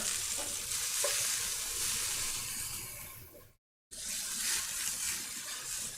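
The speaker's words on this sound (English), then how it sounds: "Okay, that's pretty good for browning." Food browning in a hot pan during a home cooking session sizzles steadily and close up, a continuous hissing fry that cuts out briefly partway through and then resumes as before.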